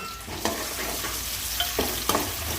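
Potato slices and tomato pieces fry in a pan with a steady close sizzle, broken by a few sharp clinks and scrapes of stirring.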